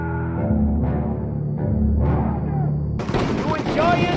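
Enemy gunfire in the 1930s gangster game Mafia Definitive Edition: a loud burst of shots and crackling fire cuts in abruptly after a stretch of orchestral music.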